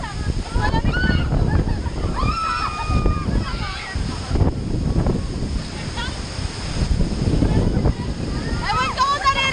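Rushing water at Bomod-ok Falls in Sagada, a steady broadband roar of falling water close by, with someone talking over it throughout.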